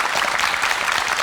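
Studio audience applause at a Korean TV book-talk show, a dense, steady clapping wash that fills the whole short moment without voices over it.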